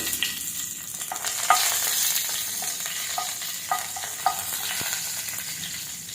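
Curry leaves and masala sizzle in hot oil for ennai kathirikai kuzhambu, an eggplant curry, making a steady frying crackle with scattered sharper pops and light stirring, and no voices.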